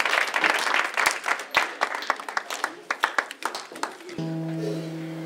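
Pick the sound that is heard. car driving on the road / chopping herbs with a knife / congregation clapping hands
congregation clapping hands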